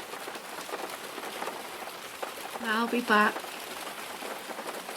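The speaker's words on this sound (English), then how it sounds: "just spend a few moments just listening to the sound of the rain" Steady rainfall patters softly and evenly throughout while a person speaks briefly in the middle.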